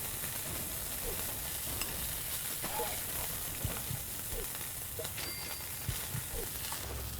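Burger patties fry in a pan with a steady, moderately quiet sizzle and crackle, broken by occasional soft clicks and scrapes of stirring or handling.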